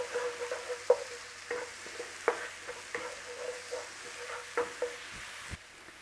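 Chicken bhuna frying in a pan gives a soft, steady sizzle, broken by sharp scrapes and clacks as the spoon stirs at irregular intervals.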